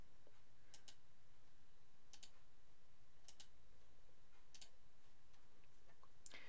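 Computer mouse clicks, five or six crisp, faint single clicks spaced about a second apart against a quiet background.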